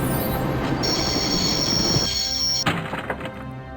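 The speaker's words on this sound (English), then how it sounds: "I'd always wanted to stop a train" A train in the point-and-click adventure game Broken Sword: Shadow of the Templars rumbles loudly with a long high metallic wheel squeal, then brakes to a stop with a heavy thunk and rattling clanks.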